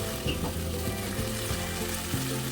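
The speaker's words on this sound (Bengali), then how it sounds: "মেথি শাকটা দিয়ে মশলার সাথে খুব ভালো করে কষিয়ে নিতে হবে" Fenugreek leaves frying with spices in a pan, a close, steady sizzle with occasional stirring scrapes and clinks against the pan, no voices.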